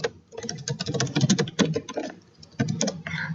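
Typing on a computer keyboard while entering heading text in Microsoft Word 2016, a steady run of quick close key clicks with a short pause near the end before the typing resumes.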